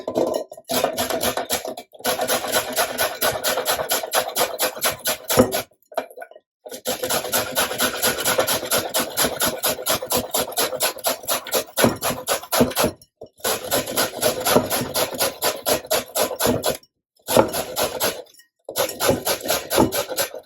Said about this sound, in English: first I'm going to cut the ends off and start my grating process